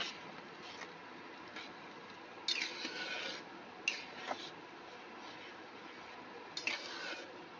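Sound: stirring mung dal with sugar in a pot

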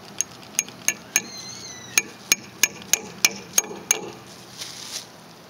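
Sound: hammering tacks with a pipe used as a hammer

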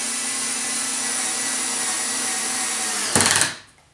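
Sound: Ryobi TEK4 cordless screwdriver driving screw into 2x4

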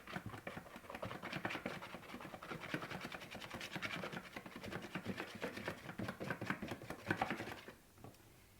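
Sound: stirring a semolina cream mixture

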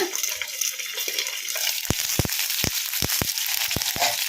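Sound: stuffed chillies (mirchi) frying in a covered pan

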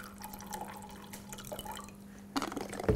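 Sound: water poured into a glass

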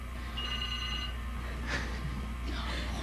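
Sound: telephone ringing

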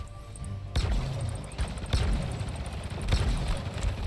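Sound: gunfire from a video game

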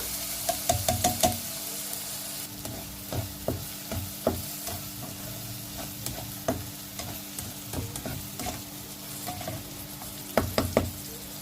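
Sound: red chili and onion paste frying in oil

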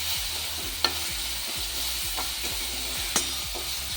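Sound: green chili paste added to roasting spices in a pan

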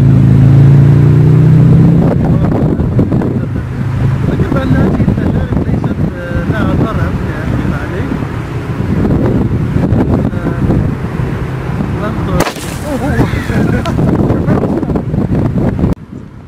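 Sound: wind blowing outdoors

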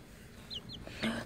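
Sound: chick cheeping

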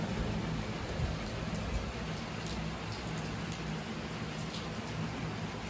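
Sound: heavy rain falling outside

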